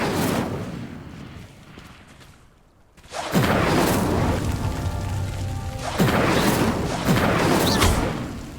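Incendio fire spells lighting sinking pyres in Hogwarts Legacy, a quiet magical whoosh that fades, then after a short silence two loud bursts of flaring fire several seconds apart over game ambience.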